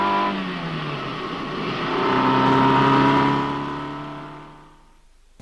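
A 1970s Fiat 128 Special car runs with a loud, close engine note that climbs in pitch as it revs, then fades away toward the end.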